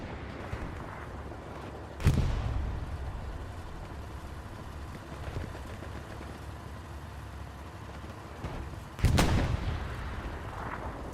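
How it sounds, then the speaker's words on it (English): Tank gunfire from a battle in the World War II game Hell Let Loose on the Omaha Beach map: two heavy booming cannon blasts several seconds apart, each followed by a rumbling decay, over a steady engine-like background and with no speech. "Might be able to see this tank fight here in just a second."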